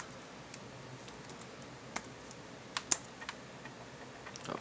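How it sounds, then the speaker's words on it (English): A computer keyboard is typed on quietly during a dual-boot Windows and Linux setup, giving a few soft scattered key taps over a faint steady hiss, with no talking. "we have to type start X"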